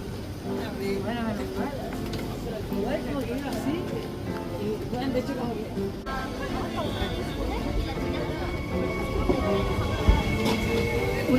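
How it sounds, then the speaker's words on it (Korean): A train rumbles past Vernon-Giverny station in France with steady rolling clatter and metallic squeals, while a person talks over the continuous noise. "우리가 타고 온 기차가 지나가고 있습니다."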